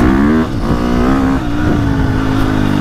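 A 2025 KTM 350XCF dirt bike engine revs up hard and close, its pitch climbing and dipping in quick throttle blips with a snappy response, no talking.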